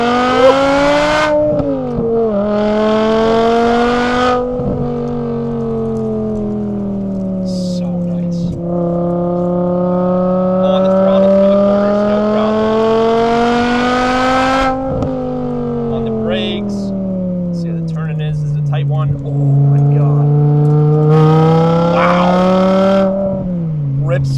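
A custom BMW E61 M5 Touring with a 6-speed manual on a road test gives a loud, close engine drone that swells and sags through several rev rises and drops before settling back to a steady hum, with some talk underneath.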